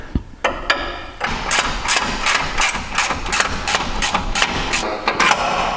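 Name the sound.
breaker bar loosening control arm bolt on Jeep Wrangler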